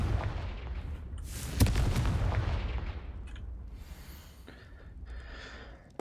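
A Confringo fire-blast spell goes off in Hogwarts Legacy, a sudden loud booming burst that trails off into a crackling rumble, with fainter game effects afterward.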